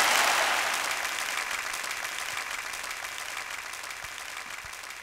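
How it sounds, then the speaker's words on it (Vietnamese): An audience at a high school class reunion gathering in Nghĩa Hưng, Vietnam, bursts into loud, dense applause that starts strong and then slowly fades while the clapping carries on. "đặc biệt là lớp của anh Tích, một tràng vỗ tay thật lớn hơn nữa được không ạ?"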